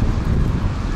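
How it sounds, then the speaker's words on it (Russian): Heavy wind buffeting a microphone, a loud, continuous low rumble with no voices. "Прям ветер как надо задувает сильно."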